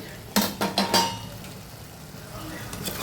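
A lid clinks onto a pot of dal chicken simmering on low flame: three or four quick, close metallic knocks in the first second, then a quiet kitchen hush.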